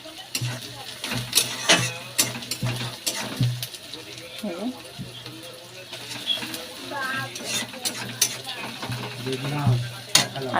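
Onion frying in a pan, a steady low sizzle with frequent scraping clinks of a spoon stirring against the metal, while someone talks over it.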